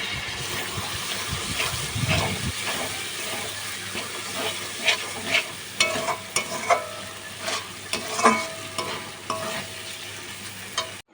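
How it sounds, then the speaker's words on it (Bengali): Chopped tomato stir-fried with spices in a pan for chicken curry, a steady close sizzle broken by regular spoon scrapes and light knocks against the pan. "তো টমেটো কুচিটা দিয়ে বেশ কিছুক্ষণ নাড়াচাড়া করে নেবো।"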